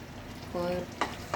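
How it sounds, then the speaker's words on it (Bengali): Roti flatbreads frying in a pan, a quiet sizzle with a short hum and two sharp clatters of a utensil, close and without voices. "আমার গ্রিলটাও হয়ে যাচ্ছে আর রুটিগুলো ভাজা হচ্ছে"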